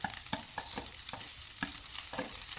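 Carrot, pumpkin, capsicum and tomato sautéed in a pan, a steady close sizzle broken by regular scraping strokes of a spatula, with no talk.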